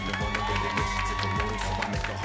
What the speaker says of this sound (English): Let's have a big round of applause for lane 1, Holly and Crook from Grantham